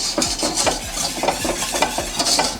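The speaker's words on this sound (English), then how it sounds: "we pour all that in and make sure to whisk it in so we don't get any lumps of pectin into the puree" Sugar and pectin being whisked into fruit puree in a pan, a quick rhythmic scraping and tapping of the whisk at about three strokes per second, close and steady over a soft bubbling background.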